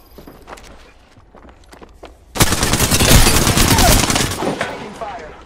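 Automatic gunfire bursts out in the Apex Legends video game, a loud sustained fusillade following a quieter stretch of footsteps and faint clicks.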